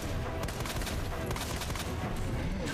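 Rapid gunfire in the Resident Evil 2 Remake video game, a dense continuous volley of shots at moderate loudness, layered with game sound and no clear talking.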